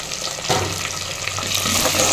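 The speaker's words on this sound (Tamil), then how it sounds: "அதையும் சேர்த்து நல்லா வதக்கி விடுங்க அந்த எண்ணெயிலே நல்லா வதங்கணும்" Shallots and garlic dropped into hot oil in a pan for a manathakkali curry, a sudden burst of sizzling that swells and keeps hissing strongly, close up, no speech.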